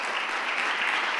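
Congregation applause during a midweek church service, a dense continuous patter of many hands clapping, even and moderately distant, with no speech.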